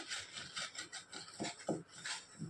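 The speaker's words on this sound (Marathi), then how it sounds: "सर्वच पानांना मी अशा पद्धतीने लाटून घेणार आहे" Rolling pin pressing and rubbing over colocasia leaves laid out for alu vadi, a run of soft rhythmic scraping strokes up close, with no talk.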